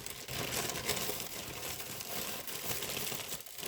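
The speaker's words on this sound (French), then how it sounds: "j'attrape une enveloppe, comme ça c'est fait" A paper envelope being grabbed and handled makes a quiet, continuous crinkling rustle that lasts the whole moment, close by and with no talking.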